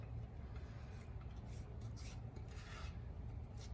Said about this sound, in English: See how that spatula just gets all of it out.